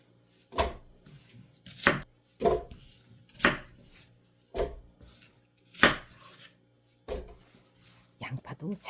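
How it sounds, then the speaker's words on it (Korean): A knife cuts an apple into cubes on a board: about eight sharp, separate chops at an uneven pace, close and clear against a quiet background, with a quicker flurry of cuts at the end. "사과를 깍둑썰기로 해서 넣게요"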